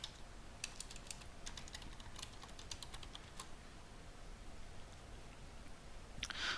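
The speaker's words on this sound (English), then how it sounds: "I'm going to type my credential to join this machine in domain" Keystrokes on a computer keyboard, entering domain credentials to join a Windows machine to a domain, tap out in quiet, irregular bursts with short pauses and a denser flurry at the end.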